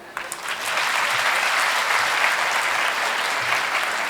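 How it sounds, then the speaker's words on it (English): Sustained audience applause at a talk, rising quickly after a soft start and holding steady, dense hand clapping with no voices over it. "Can we clap for him?"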